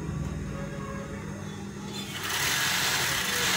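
A three-needle overdeck sewing machine hems the edges of garment bodies and sleeves with a steady, close whir that grows louder and busier partway through.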